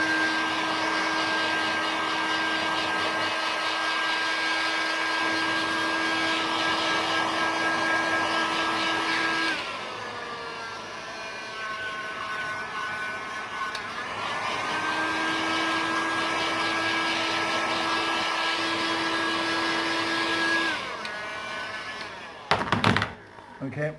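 A heat gun drying glue for tolex covering, a steady loud blowing whine that runs continuously, dips briefly as it is moved, then resumes before cutting off with a few handling knocks at the end.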